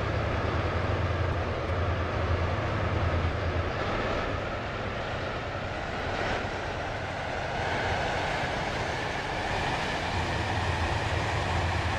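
A passenger train runs in the SCR railway game, giving a steady, fairly quiet rumble with a faint rhythmic rail clatter and no voices.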